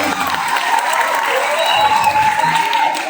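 A crowd at a Balinese comedy show claps and cheers steadily, a sustained wash of applause with a voice carrying over it.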